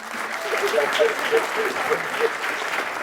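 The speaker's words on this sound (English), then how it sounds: "give yourself a round of applause real quick" Audience applause at a justice ambassadors graduation ceremony, a steady wash of many hands clapping at moderate volume for the full three seconds, with faint voices mixed in.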